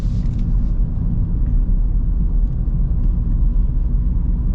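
Steady low road rumble fills the cabin of a moving 2025 Porsche Macan GTS, a constant, moderately loud hum of tires and engine with no talk.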